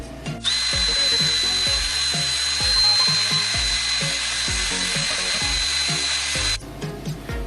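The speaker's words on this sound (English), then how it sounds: "take a wire brush, which I have on my drill, and we're going to clean off the paint" A power drill fitted with a wire brush, cleaning paint off metal tubing, grinds steadily and loudly for several seconds, a high whine over rough scraping, then cuts off near the end.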